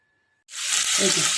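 Pabda fish goes into hot mustard oil after a near-silent pause, and a loud, sudden sizzle breaks out and keeps hissing steadily up close.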